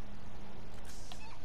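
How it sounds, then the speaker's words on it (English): A cat meows in the Grand Theft Auto video game, one close, drawn-out meow rising over a steady background hum, loud and clear with no speech. "What that black cat one? I'm gonna adopt it."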